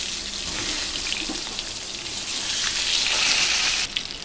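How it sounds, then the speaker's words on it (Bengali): Eggplant pieces coated with salt and turmeric fry in hot oil for a Bengali eggplant malai curry, giving a steady, close, continuous sizzling hiss that swells slightly toward the end. "নুন হলুদ মাখানো বেগুনগুলোকে আমি ভেজে নেব"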